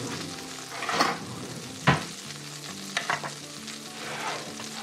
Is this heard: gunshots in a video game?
no